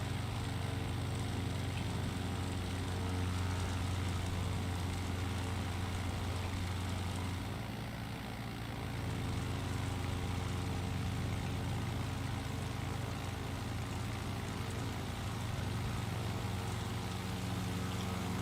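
Low, steady drone of an aircraft engine in a low-and-slow flight video game, a continuous even hum that dips briefly midway, with no talking.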